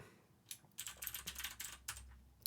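Rapid bursts of keystrokes on a computer keyboard, a brisk uneven clatter of clicks close by with brief pauses between runs, quiet and without voices.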